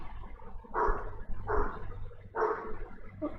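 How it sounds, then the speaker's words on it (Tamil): A neighbour's dog barks three times at a steady pace, moderately close and alone, with a low background hum between barks. "பக்கத்து வீட்டில் தான் நாய் கத்துது."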